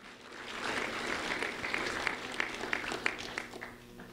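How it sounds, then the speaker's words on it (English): Modest audience applause at a sheriff's office recognition ceremony, fairly quiet and slightly distant, swelling in then continuing as scattered, uneven claps with a few sharper individual hand claps standing out toward the end. "a round of applause for Jo Marie Garcia"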